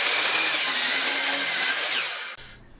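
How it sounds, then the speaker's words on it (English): A miter saw cuts lumber in a single loud, rough sawing pass, then winds down and stops at the end. "I used the miter saw table to cut the lumbers."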